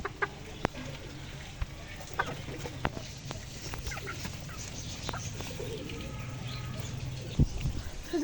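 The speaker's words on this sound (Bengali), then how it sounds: "এই দেখেন আমাদের মুরগি" Chickens on a rooftop cluck and call in scattered bursts, some close and sharp, others softer, over a low background hum with occasional thumps and brief knocks.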